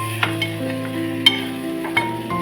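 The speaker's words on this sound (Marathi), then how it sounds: "भगल आपण हलकीशी अशी भाजून घेऊया तेलावरती" Bhagar, barnyard millet, roasts lightly in hot oil in a pan, a steady close sizzle with a few brief scraping stir strokes and no talking.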